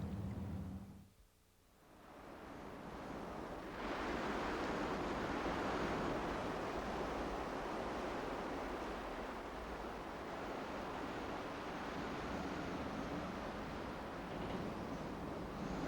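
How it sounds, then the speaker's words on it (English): Wind and surf roll along the remote Shetland coast, a steady broad roar of breaking waves and gusting air that swells after a brief lull near the start and then holds loud and continuous. "A wilderness of wind and waves, the most remote of the British Isles."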